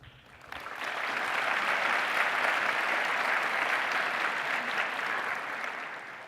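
An audience at a closing keynote session applauds an award runner-up, steady dense clapping that swells within a second and holds evenly for several seconds before easing slightly.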